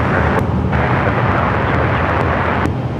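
Airplane roaring at LAX airport, a loud, broad rumble with heavy low-end wind buffeting, continuous and close throughout.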